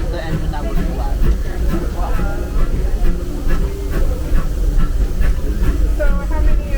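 Steady loud hiss and rumble of a Disneyland Railroad steam locomotive heard close from the cab, a continuous churning roar with faint rhythmic chuffing and clanks, and people talking over it.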